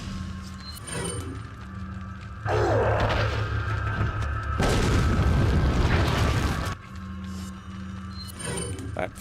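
A grenade blast in Resident Evil 4 on GameCube: loud, roaring bursts that swell for several seconds mid-clip, framed by quieter game ambience and mechanical noise.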